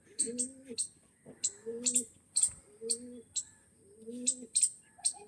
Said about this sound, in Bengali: ছটফটে পায়রা বন্ধুরা দেখুন